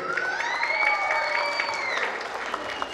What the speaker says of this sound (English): I want everyone to give a big standing applause for the great team which is over here.